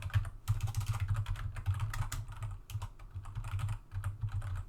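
Typing on a computer keyboard while writing code, steady close rapid key clatter with brief pauses between bursts, no talking.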